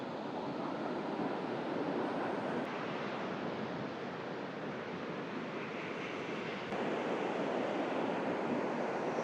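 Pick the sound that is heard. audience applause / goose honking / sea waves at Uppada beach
sea waves at Uppada beach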